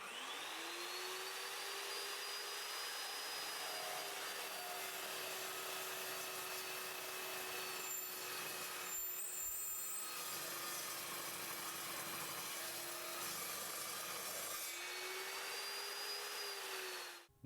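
An Evolution S355MCS miter chop saw cuts through 1/4-inch steel plate with a steady, loud, continuous high-pitched grinding whine that holds for about fifteen seconds before the blade winds down.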